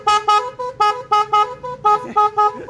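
A car horn, freshly rewired from a negative to a positive horn switch, honks about ten times in quick, loud, evenly spaced multi-tone blasts, close by.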